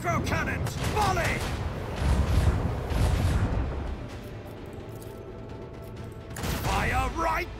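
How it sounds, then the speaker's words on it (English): Macro cannons fire a volley in Rogue Trader's space combat, a burst of heavy booming blasts rolling over the first four seconds, then a quieter lull before another cluster of booms near the end. "Macro cannons, volley!"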